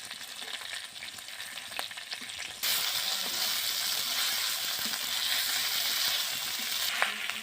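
Chicken sizzles steadily in hot oil as a tempering of bay leaf, chili and cumin goes in, the frying jumping louder partway through and holding a dense, close crackle.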